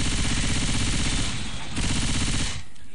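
Rapid automatic gunfire from Left 4 Dead 2, loud and continuous bursts with a short break and a tail-off at the end, a voice faintly present underneath.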